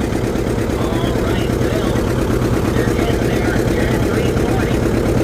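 Antique John Deere R tractor engine working under load at a county fair tractor pull, a steady loud low-pitched rhythmic chugging throughout, with an announcer talking over it.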